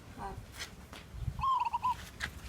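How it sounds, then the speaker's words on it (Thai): A recording of a zebra dove call is played to a dove chick in a cage, producing a brief, soft tonal coo amid faint rustling and low background sounds. "เปิดนกเขาให้ลูกมันฟัง นกเขาชวานะครับ"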